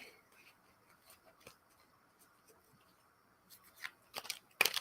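Quiet rustling and light shuffling of tarot cards, building to a brisk burst of riffling near the end, with faint sounds in the background.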